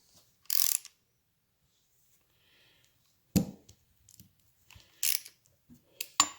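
A socket wrench ratchets on the countershaft sprocket nut of a 1975 Norton Commando Mk3 transmission, with sharp close clicks and metallic clacks in short separate bursts amid quiet pauses.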